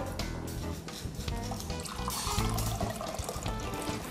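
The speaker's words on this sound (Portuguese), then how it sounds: "Eu vou colocar aqui o açúcar e a água." Water and sugar are poured into a pan to make syrup on a cooking show, with a steady, close splashing pour running for a few seconds.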